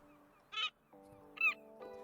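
A bird in a video game honks twice in quick goose-like calls over a steady game music bed, with a softer third call at the end.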